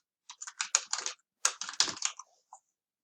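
Typing on a computer keyboard, entering text into a web presentation: two quick bursts of close, crisp key clicks separated by a short pause, ending with a single tap, with no talking.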